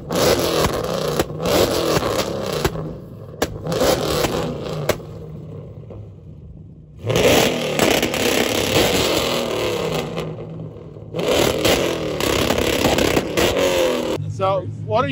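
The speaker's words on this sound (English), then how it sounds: "Everybody questions, why does the car sound the way it does?" A modified Dodge car's engine roars and revs in loud bursts, dropping out briefly between pulls, with a voice speaking over parts of it.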